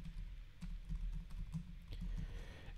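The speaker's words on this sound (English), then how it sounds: "if I can type." Keystrokes on a computer keyboard while setting up a crypto indicator in TradingView, a run of soft, quick taps in uneven bursts, close and fairly faint with no voice.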